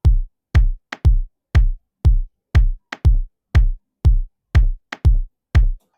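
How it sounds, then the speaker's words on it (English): A dry, clicky rim shot sample for an Afro house beat, landing between steady four-on-the-floor kick drum hits. The kick pulses every half second and the crisp rim clicks recur on a sparse repeating pattern, electronic and upfront. "a rim shot"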